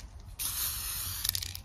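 Champagne-coloured spray paint hisses from an aerosol can onto a mirror in a steady burst of about a second, close and fairly loud, followed by a few short spurts.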